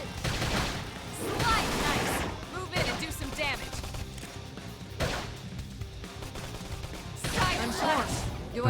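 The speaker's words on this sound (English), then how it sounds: "Knock them over with gunfire." Rapid bursts of gunfire from combat in Xenoblade Chronicles X, loud and dense in several volleys over game music and battle effects, with a voice speaking among them.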